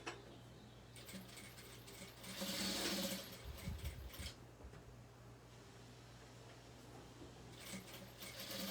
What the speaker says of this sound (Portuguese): arrumo a minha pence e venho costurando as duas ao mesmo tempo